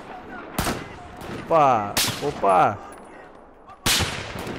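Gunfire in the Battlefield 4 shooter on Xbox One: several loud, sharp single shots spaced apart, each with a ringing tail, while a player's excited voice speaks between them.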